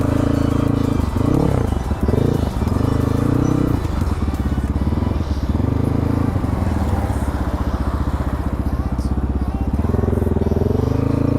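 A dirt bike ridden on a trail in Nepal, its engine droning loud and close throughout, rising and falling with throttle changes amid rattling and clatter from the rough ground.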